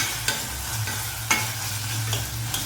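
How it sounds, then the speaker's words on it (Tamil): Onions and tomatoes sautéing in a pan for poppy-seed gravy, a steady close sizzle with a few sharp stirring scrapes of a utensil, no voices. "இதுவும் நல்லா சுருண்டு வதங்கணும், ஒன்றோடு ஒன்று சேர்ந்தாப்பில் வதங்கணும்"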